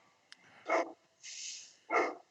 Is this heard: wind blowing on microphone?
no